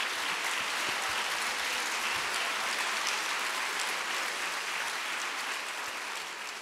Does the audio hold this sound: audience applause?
yes